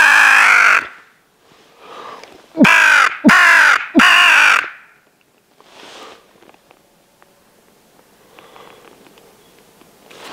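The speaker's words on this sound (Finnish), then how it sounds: "Varis." A crow gives one long caw, then a trio of loud, harsh, evenly spaced caws close by, followed by quieter fainter calls and rustling in a spring outdoor setting.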